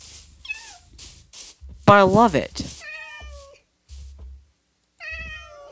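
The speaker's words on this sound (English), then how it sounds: "You're a new cat." Cats in a Minecraft beta 1.14 world let out several clear meows, one loud drawn-out yowl and shorter mews, while a person talks between and over them.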